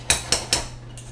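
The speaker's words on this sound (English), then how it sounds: "Make sure to stir it actually real well at the bottom." Fried rice being stirred in a pan: three sharp metallic utensil scrapes or knocks against the pan in quick succession, close and clear over a low steady hum, with a fainter fourth touch at the end.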